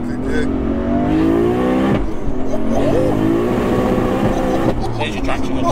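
An 1100bhp Lexus sleeper with a fully built 2JZ turbo engine pulls hard in second gear, its exhaust note rising steadily in loud, close revs, briefly dropping at a shift, then climbing again, with voices talking over it.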